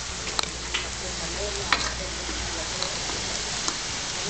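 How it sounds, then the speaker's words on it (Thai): A wok of food, including tofu skin, simmers and sizzles over lowered heat while being stirred, giving a steady close frying hiss with a few faint scrapes and knocks from a spatula. "เอาละลดอุณหภูมิของกระทะลงไปบ้างแล้วก็คนแล้วเคี่ยวกันไปเรื่อยๆก่อน"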